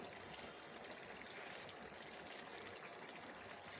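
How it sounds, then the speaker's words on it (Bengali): Water pours steadily for several seconds, a soft continuous splash and trickle as a cup of water goes into a pot of boiling chicken, close and fairly quiet. "এক্ষেত্রে আর 1 কাপ পানি দিয়ে দিলাম"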